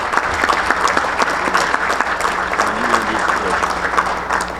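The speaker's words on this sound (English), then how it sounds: "would you join me in giving a round of applause in honor of this great man" A large audience at a baseball hall of fame induction ceremony in a Sheraton ballroom gives sustained, even applause. The clapping stays dense and loud throughout, with faint voices mixed in.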